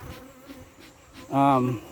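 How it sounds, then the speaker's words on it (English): Honey bees buzz around a wet honey super at a Trinidad apiary, a faint hum at first, then one loud close bee droning past near the end. "The bees have found the smell of the wet super here, and they just found it"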